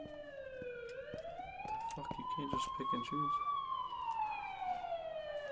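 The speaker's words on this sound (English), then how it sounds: "what's up with the ambulance?" An ambulance siren wails close and loud, its long tone sweeping slowly up and holding high, while someone talks over it.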